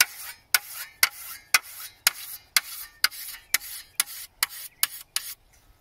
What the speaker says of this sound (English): I take the flat part of my stone and I just run it really gently a couple times across the entire length of the blade.